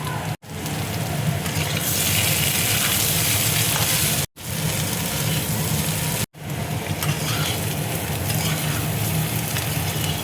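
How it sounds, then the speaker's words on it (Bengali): Potatoes frying with coarse cumin and coriander powder and salt, a loud, dense, continuous sizzle close up, broken by three brief abrupt cuts to silence. "একটু ভালো করে দেখো ভেজে নেব।"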